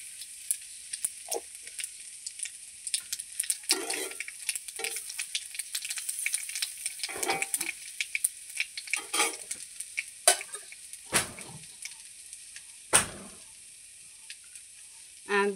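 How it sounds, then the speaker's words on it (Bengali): Potatoes and okra sizzle in a frying pan, a steady soft crackle with scattered louder pops and occasional stirring scrapes, fairly quiet and heard alone. "তো আলুটা ভেজে নেব, আর ভেন্ডিটাও আগে আলাদা করে ভেজে ভেজে রাখবো।"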